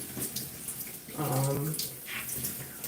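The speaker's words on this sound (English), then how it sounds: "Just using the water to detangle my crown." Water running from a tap or shower while natural gray hair is washed and detangled, a soft steady splashing hiss close by, with a brief voiced sound partway through.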